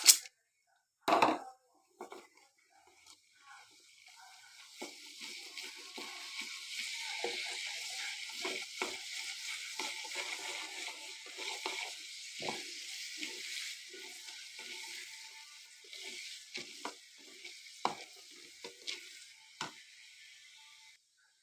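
Chana dal sizzling as it hits hot oil in a pan for lemon rice, a steady broad frying hiss after an opening clatter, with scattered stirring clicks and scrapes over about twenty seconds.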